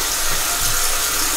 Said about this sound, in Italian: Adesso ci andiamo a risciacquare come sempre con acqua fresca